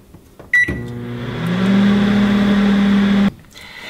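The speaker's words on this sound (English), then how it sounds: "while the other batch is going in the microwave" A microwave oven drying a batch of fresh herbs starts with a click and hums loudly and steadily for about three seconds before shutting off abruptly.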